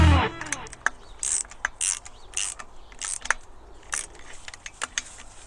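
Two screws being tightened on a hand-operated pump during a leather seal replacement: a close series of small metallic clicks, ratcheting ticks and scrapes in irregular bursts, with no talking.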